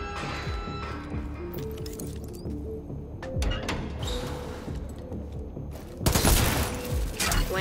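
Gunfire rattles through a firefight in the video game The Division 2, bursts of shots over a busy, layered game soundscape that swells into a louder, denser volley near the end.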